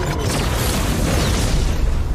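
A loud, dense explosion blast in a Sonic-themed scene, a broad roaring rumble that fills the whole clip without breaks or speech.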